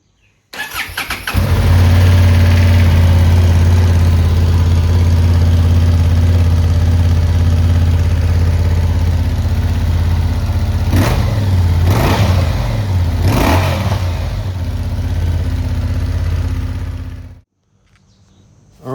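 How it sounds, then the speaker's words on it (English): A 2025 Honda CB750 Hornet on its stock exhaust fires up and settles into a steady, deep idle, then blips the throttle in a few quick revs before shutting off abruptly, loud and close. "This is a stock exhaust. It's not a bad looking exhaust. It's not a bad sounding exhaust either. I'll just fire it up,"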